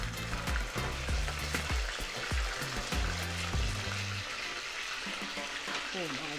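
Fish fries in hot oil for Jamaican brown stew fish, a loud, continuous sizzle and crackle close up, with a voice talking over the frying throughout.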